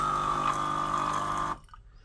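An illy iperEspresso Y3.3 espresso machine dispensing about 80 ml of hot water, a steady pump hum with a trickling flow that runs evenly and then cuts off sharply near the end, leaving quiet.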